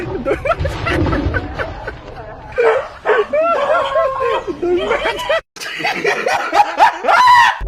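A dog barks in repeated sharp bursts, close and loud, with voices and laughter mixed in around the barking.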